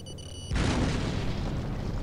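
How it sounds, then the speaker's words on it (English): An explosion in the Star Wars Jedi Academy video game hits hard after a faint, tonal game sound, then leaves a loud, sustained rumbling roar that fills the rest of the moment. "see, it still explodes"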